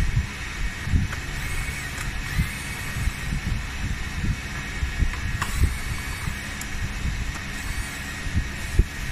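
An electric screwdriver loosens the fixing screws on the underside of a Vivicine V200 machine. A steady mechanical whir runs with faint ratcheting clicks and small knocks, close and moderately quiet.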